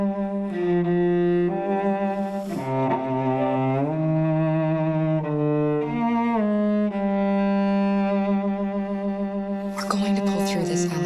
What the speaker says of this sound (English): I found a little theme that just seemed to fit over the top